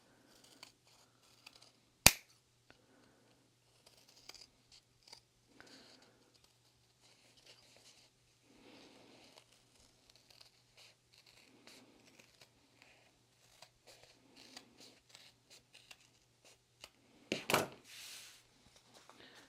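Scissors snip away the excess fabric beside a sewn seam on a small wristlet, making a few quiet, sparse cuts with soft rustling. A sharp snap comes near the start and a louder burst of cutting near the end.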